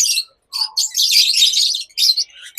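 Pearl blue turquoise opaline pet birds, a kind of parrot, chirp close by in short bright bursts of high tweets and trills, several overlapping calls with brief gaps between them.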